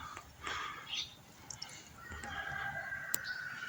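Recovering roosters and young chicks give scattered clucks and a drawn-out crow in a quiet coop, moderately near and soft, with no voices.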